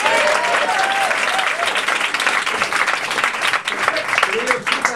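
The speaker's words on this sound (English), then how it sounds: "Everybody give Chris a round of applause" Loud, dense applause from a comedy-show audience fills the whole stretch, steady and sustained, with voices and cheers mixed into it.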